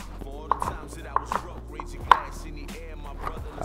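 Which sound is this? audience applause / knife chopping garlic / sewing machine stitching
knife chopping garlic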